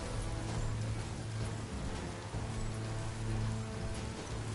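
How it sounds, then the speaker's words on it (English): Steady, dense rain falls in the video game Biomutant, a continuous hissing patter on surfaces with a low background rumble and no voices. "And it's raining, coincidentally, I guess."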